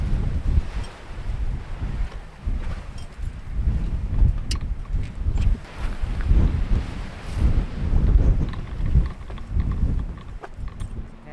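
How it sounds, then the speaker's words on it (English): Strong gusting wind on a hilltop in Arizona buffets the microphone in a continuous roar that swells and eases, with no voices. "we're up at the top, and it is windy"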